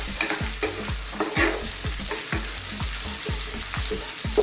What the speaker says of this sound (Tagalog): Idudulutuin lang natin ng konti yung ating sibuyas at ang bawang.